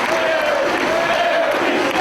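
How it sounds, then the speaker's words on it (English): A packed wrestling arena crowd at a Ring of Honor Dragon Gate event roars and cheers in a continuous wash of noise while a commentator talks over it. "starting to hear it from this jam-packed crowd"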